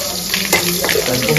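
Mustard seeds, dried red chillies and three bay leaves hit hot oil in a Bengali home kitchen, giving a short, close sizzle with light crackles and pops throughout.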